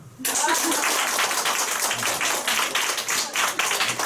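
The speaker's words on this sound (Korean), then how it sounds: "다 같이 박수 한번 칠까요?" Group at a business meeting breaking into energetic clapping together, a dense burst starting abruptly and continuing steadily at close range.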